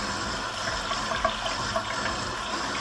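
Running tap water pours steadily over a made-up hand, a continuous even rush of water at close range with small splashy variations and no voices.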